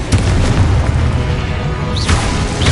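A Hogwarts Legacy Expulso blasting spell goes off as a loud, sustained booming explosion with steady rumbling roar throughout, close and dense, without any speech.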